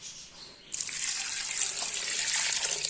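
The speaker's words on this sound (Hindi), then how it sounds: "ये डाल के फिर इसमें पानी डाल देंगे।" Water poured from a tap or vessel into a pressure cooker holding chicken for a desi chicken curry, starting abruptly after a quiet moment and running as a steady close splashing gush.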